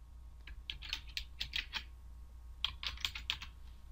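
Typing a password on a computer keyboard, two quick bursts of light key clicks separated by a short pause, close and clear over a low steady hum.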